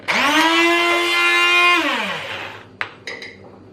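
A blender motor whirs loudly and steadily for about two seconds while making homemade mayonnaise, then spins down, followed by a couple of sharp clatters.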